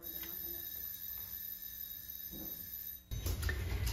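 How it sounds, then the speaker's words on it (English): Kitchen timer going off while sourdough pretzels bake, a steady electronic ringing tone held for about three seconds over room noise, then a sudden louder burst of clatter as it stops. "And that was my kitchen timer."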